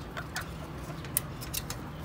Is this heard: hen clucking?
yes